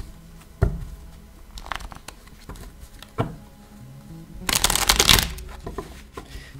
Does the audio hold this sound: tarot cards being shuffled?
yes